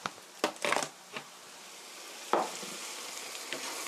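Chicken with curry powder stir-fries in a pan, a steady close sizzle broken by a few scraping, clattering stirs of the utensil.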